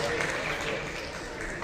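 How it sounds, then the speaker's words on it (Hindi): Scattered applause rises from spectators at an Asian classic powerlifting competition in Malaysia, a steady, fairly faint patter of clapping that continues beneath a commentator's voice. "साइड लोडर भी तालियां बजा रहे हैं।"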